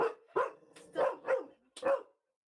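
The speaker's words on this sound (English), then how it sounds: "Woof, woof, that's a dog." A dog barks five times in quick, uneven bursts, loud and close, with short gaps between the barks and no talking.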